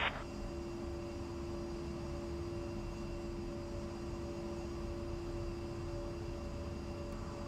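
Steady jet engine roar and whine from an A-10C idling in the DCS flight simulator, a constant, even drone with a high tonal hum that holds unchanged throughout.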